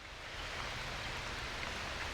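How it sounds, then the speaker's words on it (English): Heavy rain pouring down as a soft, even hiss of dense falling water, fairly faint and unbroken for a couple of seconds. "And it's pouring rain"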